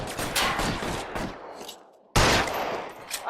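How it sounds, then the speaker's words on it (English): Machine-gun fire in the L.A. Noire video game: dense rapid bursts of automatic gunfire, a short lull, then another loud burst breaking in, with no talking. "there's a machine gun in here"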